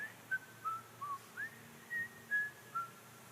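A preacher whistles a short tune in imitation of a man whistling as he climbs up from a river, eight clear, quiet notes in a light melodic sequence, heard alone.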